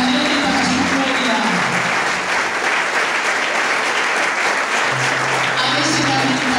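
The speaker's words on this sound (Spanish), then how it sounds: "si le doy un aplauso al Señor, que sea para Él y para su gloria" A church congregation breaks into loud, sustained applause filling the room, a dense wash of clapping that carries on throughout, with a voice briefly heard over it.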